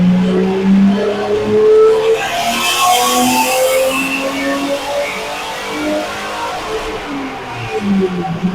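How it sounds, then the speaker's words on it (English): A BMW E30 325 pulls hard in third gear, its engine note climbing steadily under acceleration, loud and close throughout, with no voices over it. "Third gear pull."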